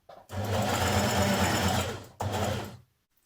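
Sewing machine stitching a jersey dress seam with a 1.5 cm allowance, a loud steady motorized whir that runs nearly two seconds, pauses briefly, then resumes before stopping.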